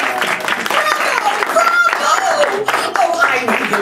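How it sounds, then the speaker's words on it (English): Audience applause and cheering for a cast of performers at a live storytelling show with Belle, a broad steady wash of clapping mixed with shouts and voices through the whole stretch. "let's give our cast a big round of applause."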